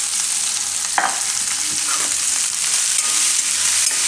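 Sliced capsicum cooking in a pan for a Gujarati besan capsicum shaak, a steady close sizzle with a few sharp scraping stirs of a spoon, no voices.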